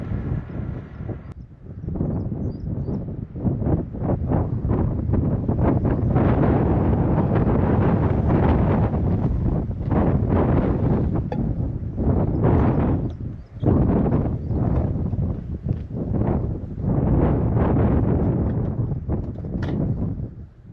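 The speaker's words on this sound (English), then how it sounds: "Oh, that's a cold wind." Cold early-morning wind buffets the microphone outdoors with a loud, continuous roar that surges and dips in gusts and drops out briefly once.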